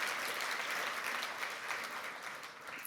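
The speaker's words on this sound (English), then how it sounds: "Yes, applaud for yourselves," An audience at a charity celebration evening applauds, a dense, even wash of many hands clapping, fairly soft and steady, tapering slightly at the end.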